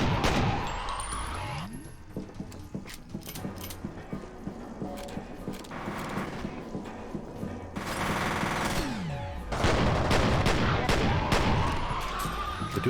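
Dual pistols firing in the shooter F.E.A.R., bursts of quick snapping shots mixed with heavy combat noise and explosive swells, loud and busy across the whole stretch.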